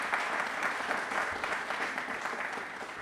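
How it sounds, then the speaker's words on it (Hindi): An audience at a Republic Day quiz program breaks into loud, continuous applause, a dense wash of clapping heard alone with no talk. "तालियां प्लीज एक बार जोरदार होनी चाहिए सभी के लिए"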